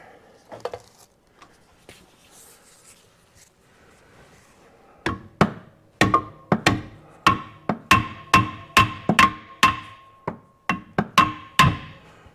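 Steady hammer blows strike in a regular rhythm, sharp and close, a dozen or so knocks after some quieter handling sounds.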